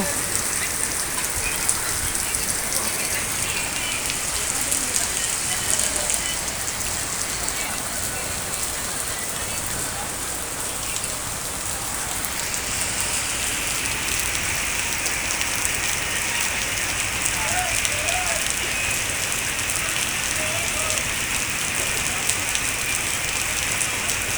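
Heavy evening rain falls in Shailkupa, a loud unbroken roar of drops on surfaces that holds steady throughout with no voices.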